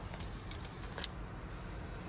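Keys to a 2021 Toyota Sienna Hybrid Limited jangle in a few quick metallic bursts near the start over a soft steady background hiss.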